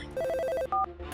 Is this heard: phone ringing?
yes